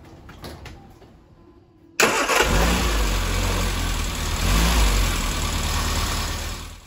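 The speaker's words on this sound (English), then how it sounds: "The car started with ease" A Classic Mini with a HIF44 carburettor and stub stack fires up after a quiet moment, catching at once and settling into a loud, steady idle with a slight swell in revs.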